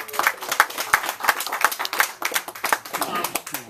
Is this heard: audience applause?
yes